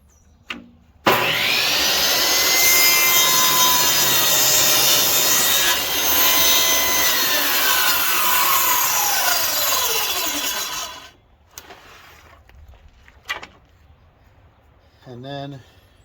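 A miter saw cuts a wood board: a loud whine spins up, bites through the wood for about ten seconds, then winds down, followed by quieter shop handling sounds.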